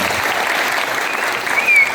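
An audience applauds a speaker at a Dandeli wildlife conservation campaign event, a dense, even patter of many hands clapping nearby for two seconds, swelling slightly at the end.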